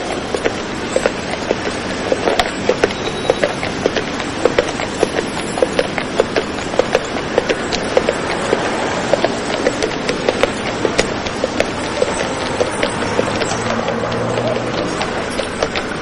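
Horses pulling beer carts clip-clop along a city street, their hooves giving a steady, fairly even run of hard knocks over constant traffic-like background noise.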